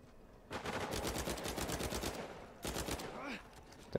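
Gunfire in Uncharted 4 multiplayer: a long burst of rapid automatic shots followed by a second, shorter burst after a brief pause, loud and close, ending with a faint whooshing effect.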